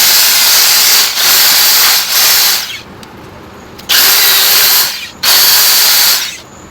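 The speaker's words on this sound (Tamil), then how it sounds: "இப்போ ஹோல் போட்டுக்கிறேன்" A power drill bores a hole into PVC pipe in several loud, close whirring bursts of a second or two each, separated by short pauses, with no talk.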